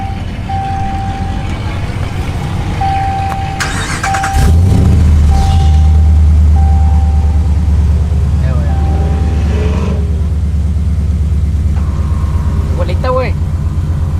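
A truck engine cranks over and catches, then settles into a loud, steady idle that rumbles on close by, with people talking over it and a few short electronic beeps in the background.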